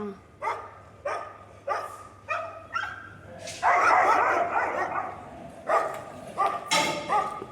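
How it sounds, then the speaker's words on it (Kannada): Several dogs barking repeatedly, some near and some farther off, in uneven overlapping bursts with a stretch of rougher, noisier yapping. "ಎಷ್ಟು ನಾಯಿಗಳು ಬಗ್ಳುತ್ತಾ ಇರ್ತಾ ಗೊತ್ತಾ"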